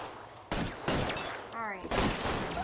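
Gunfire erupts in the 1940s crime game LA Noire as a police shootout begins, with sharp bursts of shots landing over a noisy background while players talk.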